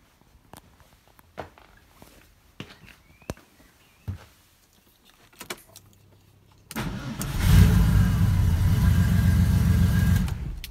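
Porsche 911 engine cranks and fires up during an ignition coil test, sparse clicks and handling noises giving way to a loud, steady running engine that holds for the last four seconds.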